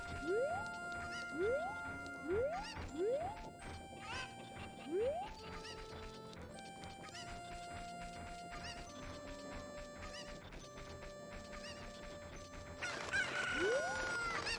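Cuckoo chickens from Zelda: Ocarina of Time cluck and squawk repeatedly, with rising synthetic chirps, a brief crash and game sound effects layered over steady background music.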